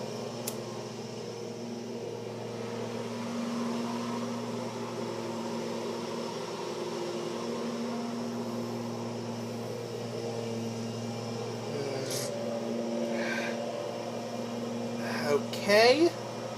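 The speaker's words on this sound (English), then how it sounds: "It's just the lawnmower, and there's nothing I can do about it." A lawnmower runs in the background with a steady, distant droning hum that continues throughout; a few brief, faint clicks and knocks sit on top near the end.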